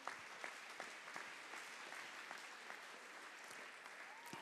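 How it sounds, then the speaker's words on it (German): Applause from a crowd at a football club celebration in Grabs, Switzerland, honoring an honorary member, dense steady clapping with a few sharper claps standing out, heard alone without talk and at fairly low level. "Grossen Applaus an Gusti da für die Geschichten von früher"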